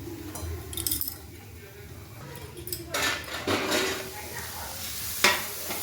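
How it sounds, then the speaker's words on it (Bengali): Vegetables fry in a pan for mixed fried rice, a steady sizzling hiss with occasional clinks of a utensil against the pan and stirring, fairly quiet and close. "ঢাকা দিয়ে দেবো যাতে করে সবজিটা আমাদের খুব তাড়াতাড়ি ভাজা হয়ে যায়"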